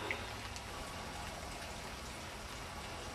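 Floodwater at Fiskerton pours off and flows fast past a house, a steady, broad rushing hiss with no breaks, fairly faint and continuous from start to finish.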